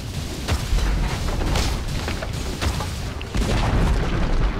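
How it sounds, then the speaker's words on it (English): Booming, crashing game effects from a Dota 2 match as a tower is destroyed, with dense overlapping impacts and bursts at steady loud level throughout, no voices. "Dire's bottom tower has fallen."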